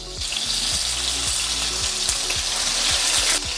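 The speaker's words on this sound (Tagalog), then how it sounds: "Kung gusto nyong mas sumarap pa yung kaldereta nyo, prituhin nyo yung karne." Beef pieces fry in a hot pan to brown for caldereta, giving a loud, steady sizzle with crackling and repeated low knocks of stirring throughout.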